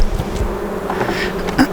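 A dense, steady buzzing of many honeybees around a hive close by, a constant droning hum with individual insects flitting past.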